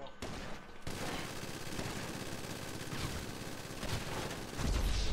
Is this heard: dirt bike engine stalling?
no